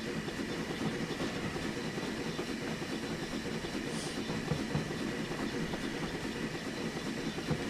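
A train in the video game Train Simulator 2016 rolls steadily along the rails on the New Seaport Line, giving a constant low rumble with faint rhythmic clatter, moderately quiet and unbroken by talk.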